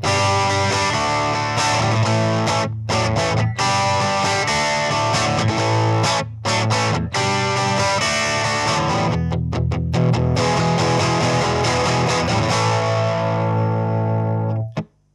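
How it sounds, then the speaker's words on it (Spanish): An XP electric guitar runs through an XP amplifier with heavy distortion, playing loud, sustained chords and riffs for about fifteen seconds, broken by a few short stops before it cuts off abruptly. "La guitarra XP con el ampli XP"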